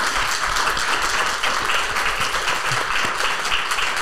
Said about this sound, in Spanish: Le damos un aplauso al doctor por habernos compartido todo.